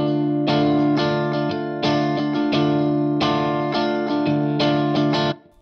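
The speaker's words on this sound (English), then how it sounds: "So that second time we're playing this funky lead line in the verse" Funky lead guitar line from a song's verse, played through an effects unit with distortion and chorus, short punchy repeated phrases, loud and close, ending abruptly.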